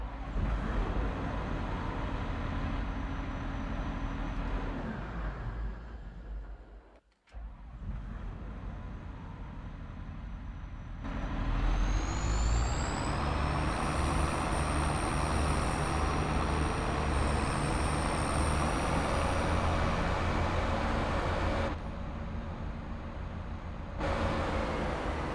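Krone BigX 1300 forage harvester engine in Farming Simulator 22, a deep continuous diesel drone that cuts out briefly, then restarts and revs up with a rising whine before settling into a steady loud roar.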